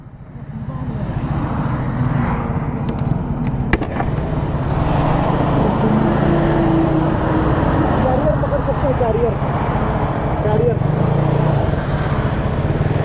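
A motorbike rides along a road toward Gakhar, with a continuous engine hum and wind rush close by that swells after a quiet start, while someone talks over it.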